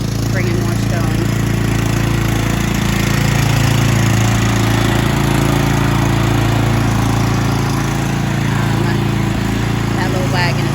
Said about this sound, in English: here comes my husband with the tractor, bringing more stones